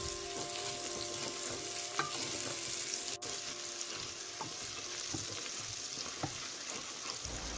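Ají de pollo base being stirred in a frying pan with ground pepper and oregano, a continuous gentle sizzle with occasional soft scrapes and clicks of the spoon.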